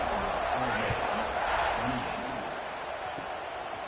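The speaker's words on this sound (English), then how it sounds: "this crowd now ready to get behind them" A large college football stadium crowd at an Ole Miss versus Auburn game roars steadily before the kickoff, a dense continuous wash of cheering with a commentator talking over it.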